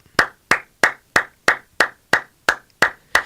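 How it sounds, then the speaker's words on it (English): Slow, deliberate clapping from a single pair of hands on a football commentary show: about ten sharp, evenly spaced claps roughly a third of a second apart, close and crisp, with silence between. "let's give Reuben Foster a round of applause"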